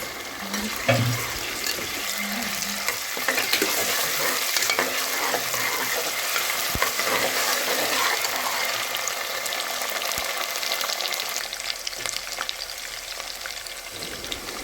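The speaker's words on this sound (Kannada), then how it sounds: "ಈರುಳ್ಳಿ ಫ್ರೈ ಆದಮೇಲೆ ಅದಕ್ಕೆ ಸ್ವಲ್ಪ ಶುಂಠಿ ಬೆಳ್ಳುಳ್ಳಿ ಪೇಸ್ಟನ್ನು ಹಾಕಿ ಅದನ್ನು ಸಹ ಹಸಿ ವಾಸನೆ ಹೋಗೋ ತನಕ ಅದನ್ನು ಚೆನ್ನಾಗಿ ಫ್ರೈ ಮಾಡ್ಕೊಳ್ಳಿ" Onions fry in oil with ginger garlic paste in a pan for a vegetable pulao, a steady crackling sizzle broken by occasional spoon scrapes and stirring, close and continuous with no voices.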